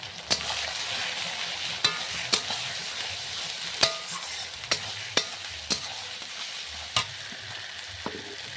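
Tomato and green chili with ginger paste being stirred and fried in a pan for ghugni: a steady close sizzle broken by sharp, irregular scrapes and taps of the spoon against the pan, with no talking.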